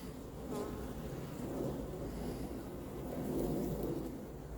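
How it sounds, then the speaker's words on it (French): Hornets drone in a steady, low, dense buzz at a beehive hornet trap in an apiary, continuous and close with faint rumbling underneath. "Là, le frelon qui continue de mordre pour sortir."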